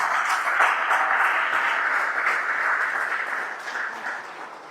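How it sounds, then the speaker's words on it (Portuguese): A church congregation applauds during a pastor's sermon, a continuous broad patter of many hands that holds steady and then tapers slightly near the end. "Aplauda ao Senhor, tomando posse."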